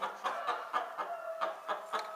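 A hen clucks in a quick, regular series of sharp, fairly close calls, each short burst evenly spaced over a couple of seconds.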